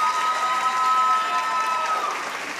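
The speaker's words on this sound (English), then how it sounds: "Let's go ahead and give her a little introductory applause." Introductory applause from an awards-ceremony audience for a middle school teacher of the year finalist, steady clapping from a crowd with a faint sustained tone over it, fading slightly toward the end.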